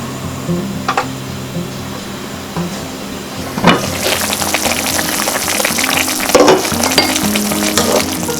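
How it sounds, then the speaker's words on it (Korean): Burdock root for Korean braised burdock simmers in a covered pot over medium heat, giving a steady close bubbling sizzle that grows louder and denser partway through. "우엉이 익을 수 있도록 뚜껑을 닫고 15분 동안 중불로 끓여주겠습니다"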